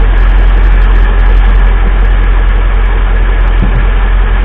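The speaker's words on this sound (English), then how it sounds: "I'm going to rev the engine and then you'll just hear the fan pick up speed" Mercedes G Wagon W463 engine running with its fan clutch spinning, a loud, steady, close engine drone with a constant fan whoosh and no distinct rise in pitch.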